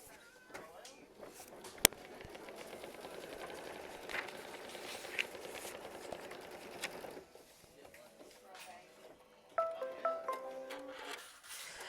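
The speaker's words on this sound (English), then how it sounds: "we're going to go ahead and tack this one down with machine stitch step 24" A sewing machine runs in bursts of rapid mechanical stitching, tacking down a quilt block, close and fairly quiet, with soft rustling and handling of fabric toward the end.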